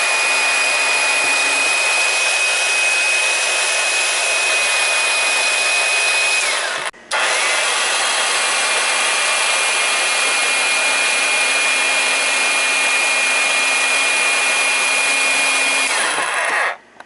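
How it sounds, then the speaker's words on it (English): An older electric salad shooter slices peeled zucchini with a loud, steady motor whir that runs for a long stretch, stops briefly, then carries on before switching off, with no voices. "We're going to be using that 19 whatever salad shooter."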